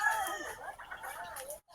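Fancy chickens and chicks cluck and call in a quick, overlapping string of short notes, close by and moderately quiet, with no talk.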